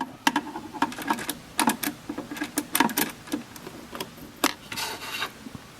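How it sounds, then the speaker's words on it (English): A screwdriver tightens a screw while a PLC is being replaced, giving a close series of small scraping, ratcheting clicks in an irregular rhythm, fairly quiet, with no talking. "And tighten using screwdriver."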